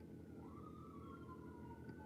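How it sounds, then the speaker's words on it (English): An emergency vehicle siren wails outdoors in the distance as dusk falls, its rising and falling tone steady and faint against a constant low background rumble. "Why is there sirens?"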